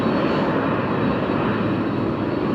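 A Boeing cargo jet with CF6 engines roars at a busy cargo airport, a steady, loud, broadband rush of engine noise that holds constant throughout.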